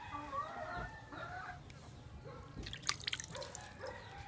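A chicken with a swollen foot clucks softly while the foot is washed, short clucks mixed with dripping and splashing water nearby.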